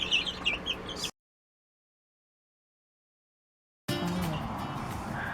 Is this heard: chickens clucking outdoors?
yes